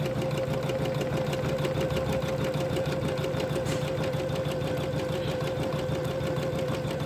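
An Usha 550 embroidery sewing machine runs steadily with a constant mechanical hum and fast rhythmic stitching clatter, close and continuous throughout, with no talking.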